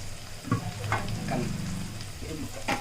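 Fish fries in hot oil in a steady close sizzle, with a few sharp spatula scrapes and knocks against the pan.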